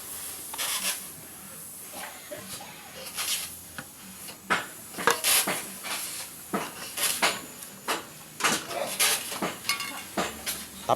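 Paint being stirred and mixed for a top coat, a series of scraping, knocking and clinking strokes in an uneven rhythm, moderately close, with a faint hiss beneath.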